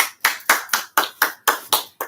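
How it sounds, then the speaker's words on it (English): A single person claps in a home podcast setting, eight or nine crisp, evenly spaced claps in a steady rhythm, close and fairly loud, with no talking. "So give a round of applause to"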